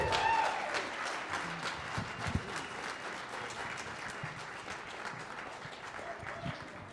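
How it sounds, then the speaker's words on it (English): An audience at a Q&A event claps for several seconds, louder at first and then gradually thinning out, with scattered individual claps in a live room. "Stand up. Give him an applause."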